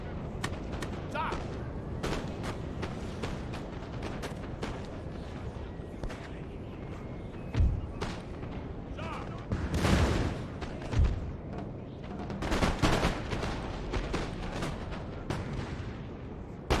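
Cannon fire booms several times in the video game Napoleon: Total War amid a continuous battle din, with shouted voices and scattered gunshots in the background.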